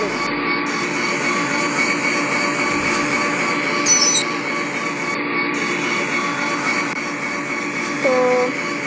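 Train creeping slowly along the track, heard from inside the locomotive cab: a continuous loud engine drone with steady rumble and a few brief squeals and high tones of wheels on rail.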